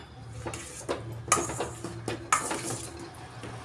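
Food being mixed with yogurt in a bowl for a jackfruit dish: a spoon clinks and scrapes against the bowl in a few close, uneven strokes, with soft rubbing between them and no talking.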